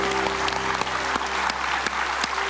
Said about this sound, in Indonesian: tepuk tangan dulu buat Pak RT